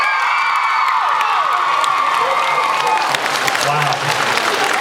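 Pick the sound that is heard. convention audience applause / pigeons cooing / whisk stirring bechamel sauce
convention audience applause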